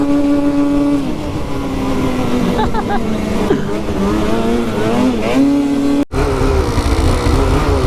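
Engines whine and rev nearby, pitch rising and falling as machines speed past, with rushing wind noise throughout.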